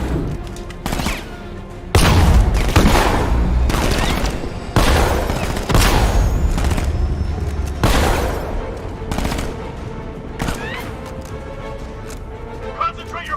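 Bursts of gunfire from Batman: Arkham Knight ring out in loud, repeated volleys every second or two, with shouted orders and game voices layered over the shots.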